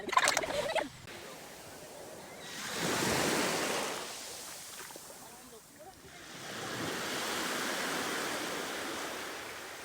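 Gentle waves of a calm sea wash in and recede in slow swells, a soft rush rising and fading twice, calm and fairly distant, in Surigao del Sur.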